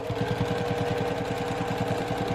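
A sewing machine top-stitches a small quilt piece for a Dresden plate table topper. Its close, steady, fast mechanical chatter runs without a break and with no talking.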